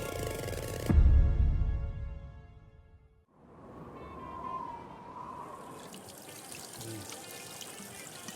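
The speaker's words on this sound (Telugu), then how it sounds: "చేతులు కడుక్కొని ట్యాప్ కట్టేస్తాం" Tap water runs steadily while someone washes their hands: a soft, close trickle and splash that follows a louder burst of background sound, with no voices over it.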